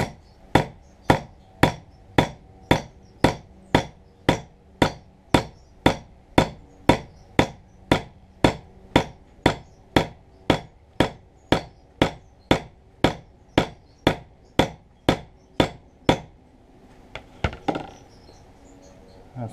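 A hammer strikes steadily, about two blows per second, setting a hatchet head onto a wooden handle, each tap sharp and close with a woody knock, continuing for about sixteen seconds before stopping.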